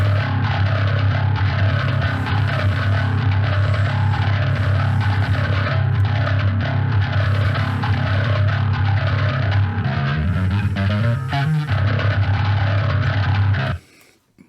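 A thick, grinding distorted bass guitar riff from a mixed metal track plays continuously and loud, with heavy low-end sustain, before cutting off abruptly near the end.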